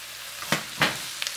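Pieces of Chinese spicy pork belly fry in a thickening sauce, with a soft constant sizzle broken by two or three scraping stirs close by.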